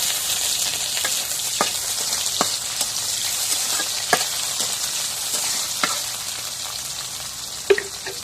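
Potato vine stalks fry in hot oil with a continuous close sizzle. Sharp pops and stirring clicks come through now and then, and nobody speaks.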